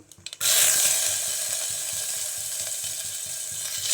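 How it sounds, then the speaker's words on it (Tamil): Chopped onion and garlic hit hot oil in a pan with a sudden loud sizzle after a few soft taps. The sizzle then settles into a steady, close hiss with faint stirring. "வெட்டி வச்ச வெங்காயம், பூண்டு அது 2ஐயும் சேர்த்து நல்லா வணக்கி விடுங்க."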